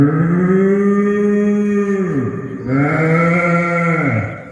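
A human voice imitates a calf mooing at a ROTC reunion sports day show, giving two long, loud, drawn-out moos with falling pitch, close and alone without other talk.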